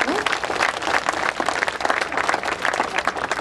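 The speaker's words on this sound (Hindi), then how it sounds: "मेरे ऑब्जर्वेशन अच्छे लगे तो मुझे आपकी तालियों के साथ पता चलना चाहिए।" An audience at a Hindi stand-up comedy show claps loudly and continuously, a dense, even wash of many hands filling the room for several seconds.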